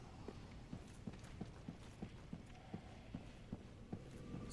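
Giant horse hooves in Dark Souls 3 thud in a steady, evenly spaced rhythm, a dozen or so soft heavy clops over a low rumbling game background, fairly faint and without talk.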